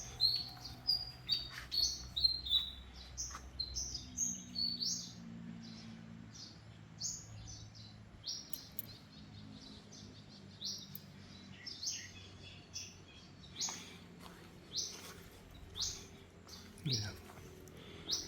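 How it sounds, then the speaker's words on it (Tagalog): Several birds chirp and tweet outdoors in the morning, with short bright calls scattered across the clip, some close and repeated in quick bursts, others fainter in the background over a low ambient hum. "Daming ibon kumakanta naman guys doon sa labas guys."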